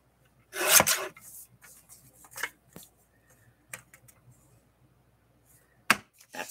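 Paper card is trimmed for journaling, giving close, scratchy rasping cuts: one longer stroke, then a scatter of short, quieter snips and rubs, and a final sharp cut.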